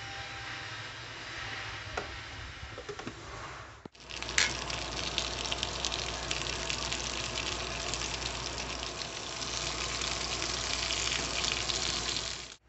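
Calabresa sausage with onions frying in a pan, a steady loud sizzle that starts abruptly after a few seconds of quieter kitchen background and continues unbroken, with no talking.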